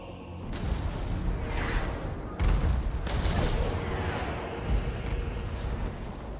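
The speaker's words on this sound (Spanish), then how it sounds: "Han reventado dos cañones de un solo disparo." Cannon fire during a High Elves siege battle in the video game Total War: Warhammer, heard as dense booming blasts and rumbling impacts over a constant din of combat, with a sharp loud burst partway through.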